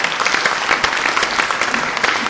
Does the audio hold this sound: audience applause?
yes